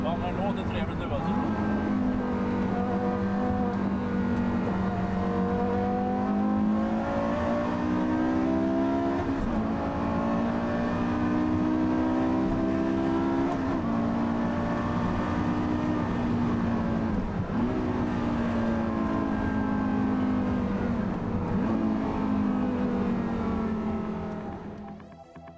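An older-generation Mercedes E63 estate with a 6.3-litre V8 accelerates hard in a race, its engine note rising through gears in long sweeping pulls, loud and steady, with speech over it.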